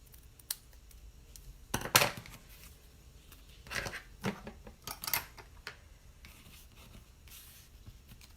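Sharp new scissors snip through paper strips in a few brief, crisp bursts, close and quiet, separated by soft rustling and handling noise.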